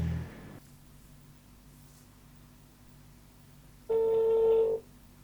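A telephone line rings during a call, one loud electronic ring burst standing out after a stretch of quiet line hiss, with a faint low tone at the very start.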